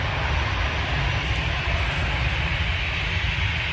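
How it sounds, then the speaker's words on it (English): An airplane taxis near an airport runway, producing a steady, loud engine roar that holds at one level throughout with no talking. "that plane's taxied up"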